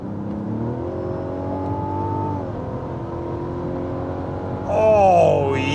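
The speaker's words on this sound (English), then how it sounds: "now I'm in sport mode. You know what that means. Those RPMs are coming up, and my foot is going down" A 2025 Mazda CX-90 in sport mode, its engine revving steadily as the RPM climbs, with a sharper, louder surge of revs near the end; no talking.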